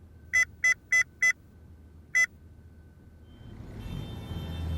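Five quick keypad tones of a phone being dialed, four in a fast run and one after a pause, then traffic noise rising in the background.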